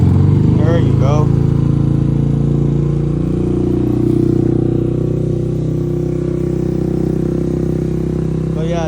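Carbureted RPS Condor motorcycle, a Honda Grom clone, idles close by with a steady, loud engine drone, while a voice speaks briefly at the start and again at the end.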